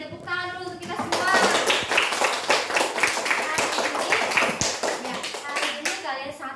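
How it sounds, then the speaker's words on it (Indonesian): A fourth-grade class applauds together, giving a dense burst of hand clapping that lasts several seconds. A teacher's voice and children's voices are heard over the clapping. "Tepuk tangan dulu untuk kita semua."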